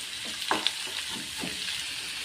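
Sliced onions, curry leaves and slit green chillies sautéing in a pan for egg gravy, a soft continuous sizzle with a few faint scraping stirs, low in level and without talk.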